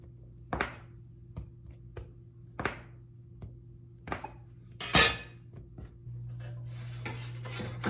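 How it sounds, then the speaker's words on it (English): A small cutter slices canned biscuit dough into quarters for garlic bread, giving several separate knocks and clinks on a hard surface spaced about a second apart, with one louder clatter midway, over a steady kitchen hum. "take my handy dandy little cutter and just, oops, cut these in quarters"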